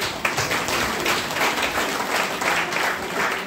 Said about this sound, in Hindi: तो सबके लिए ताली हो जाए।